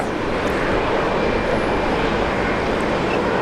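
An airplane at Brisbane Airport, Australia, gives a loud, steady jet engine roar with broad rushing noise and a faint whine, constant and close throughout.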